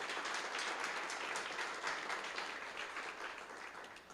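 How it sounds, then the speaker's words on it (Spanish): Church congregation applauding during a Spanish-language sermon on the resurrection, a steady dense patter of many hands filling the room at moderate level, fading slightly toward the end. "Dele un aplauso si usted lo cree"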